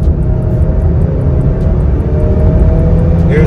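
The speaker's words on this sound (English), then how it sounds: "I'll put my foot down as soon as we get straight" A 2021 Ford Explorer Limited pulls hard from about 40 mph on the highway, its engine giving a steady, loud low drone mixed with road and wind noise heard from inside the cabin.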